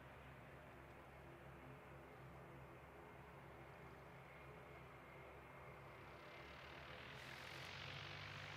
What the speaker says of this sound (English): New Zealand appearing to take off down here.